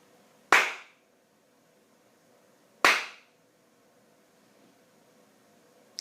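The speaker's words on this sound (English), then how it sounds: "Could you tell that I was clapping my hands together?" Two sharp, single hand claps a couple of seconds apart in a quiet room, each ringing briefly, followed by a faint tap at the end.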